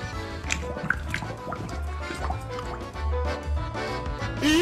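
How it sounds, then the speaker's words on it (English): A child playing with water makes dripping, plopping and squishy liquid sounds in irregular bursts, fairly close and moderate, with a brief higher tone near the end. "The kid just discovered the magic of playing with water."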